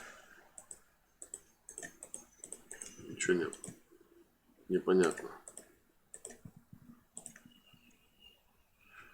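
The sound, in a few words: computer mouse clicking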